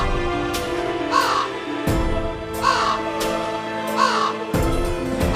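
A crow caws repeatedly, three or four harsh calls spaced about a second apart over a steady background of music, loud and close.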